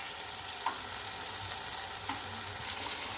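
Potatoes sautéing in a pan give off a steady, moderately loud sizzle, with a few faint spatula taps and scrapes scattered through it.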